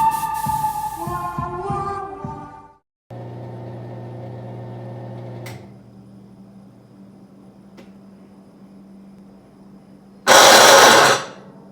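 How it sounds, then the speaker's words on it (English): A Maytag MVWC465HW2 top-load washer with a worn drive, running a spin-only test cycle, gives off a steady droning hum that shifts in pitch midway, ending in a brief loud burst of harsh noise. "We will turn this over to where only spin is lit up. That'll take us through a quick little test cycle."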